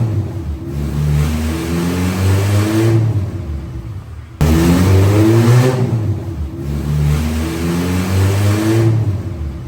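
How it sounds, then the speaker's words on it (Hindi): A Honda K24-powered hatchback strapped to a dyno revs hard in two long, loud rising pulls, its engine note climbing steadily before a brief break and a second full run. "अब एक बार फिर से गाड़ी बांधते हैं डायनो पे और देखते हैं कि क्या रिपोर्ट है।"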